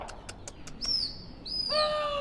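A flock of pigeons kept as fancy fighter birds, with quick wingbeat flutters followed by bright, sharp chirps and whistling calls, close and alone without talk.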